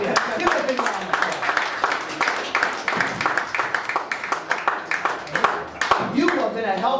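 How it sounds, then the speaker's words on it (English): Audience members at a magic show clap for a volunteer, with uneven claps from a modest crowd, close and fairly loud, under the performer's talking throughout. "Give her a big round of applause."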